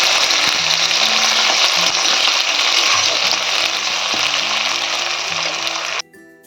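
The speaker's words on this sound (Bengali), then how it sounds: "আমি পেঁয়াজ দেব, পেঁয়াজটাকে লাল করে ভেজে নেব।" Onions sizzle in hot spiced oil, a loud, dense and steady frying hiss lasting about six seconds before dropping away abruptly, with faint background tones underneath and no speech.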